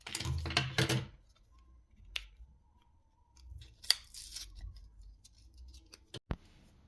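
Scissors snipping close by in a quiet room, several sharp metallic cuts in separate bursts with quiet pauses between them, fetched for changing the battery in a VW group smart car key.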